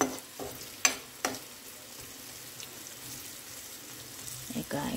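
Green chillies fry in a pan, a soft, steady sizzle beneath a few sharp clinks of a utensil near the start and a louder scrape toward the end.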